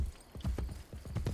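A horse's hooves clip-clop steadily at close range as it is ridden in the video game Assassin's Creed Brotherhood, with regular loud hoofbeats and no talking.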